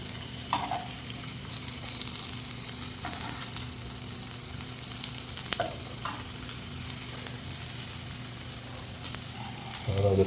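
Egg frying in a pan for an egg burger, with a steady sizzle and crackle throughout, broken by a few scraping taps as it is turned.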